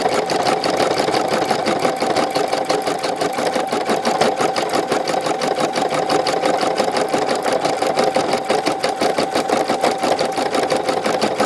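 An embroidery machine stitches out the top of a pumpkin design, its needle running in a steady, rapid mechanical rhythm with a constant hum, close and loud, alone without talk for the whole stretch.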